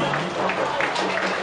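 Crowd applauding at the Osun Osogbo festival, a steady patter of many hands clapping at moderate distance, with a voice speaking over it.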